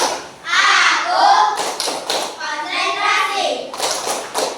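Children do a rhythmic concentration clap in an Indonesian classroom, sharp patterned hand claps mixed with chanting children's voices throughout.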